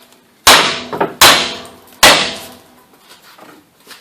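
A hammer strikes a ball joint on a 2001–2005 Ford Explorer suspension three times, each loud metallic bang ringing out and decaying in a slow, evenly spaced rhythm.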